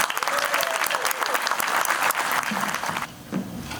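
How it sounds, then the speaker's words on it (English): Applause from an audience at a stage contest, a dense steady clatter of clapping that drops off sharply near the end to a softer patter. "So let's give a round of applause."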